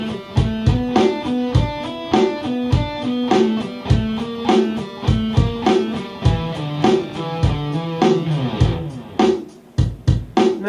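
A pentatonic line is played in steady eighth notes over a rhythmic accompaniment, with evenly spaced plucked notes stepping up and down in a continuous, close, moderately loud pattern and no talking.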